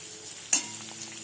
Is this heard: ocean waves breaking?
no